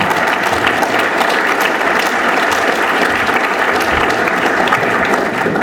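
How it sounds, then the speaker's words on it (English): An audience at an academic conference plenary and banquet in Montreal applauds, dense and sustained clapping holding at an even, fairly loud level from start to finish. "if anyone deserves a round of applause, it is Wes"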